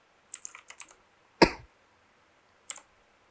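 A few quick keystrokes on a computer keyboard tap out close and crisp, followed by a single sharp cough or throat clear, then one more isolated key click in an otherwise quiet room.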